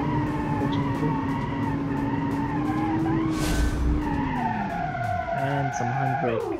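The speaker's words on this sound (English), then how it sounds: "And some handbrake turn" Car tyres skid and squeal through a handbrake turn, a long sweeping tonal screech over steady engine roar, close and loud throughout.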